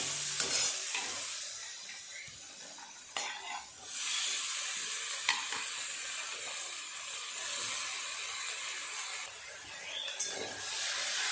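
Drumstick flowers frying with brinjal in a pan give a steady, close sizzle with stirring scrapes throughout, a brief lull near the middle before the crackle resumes at even strength.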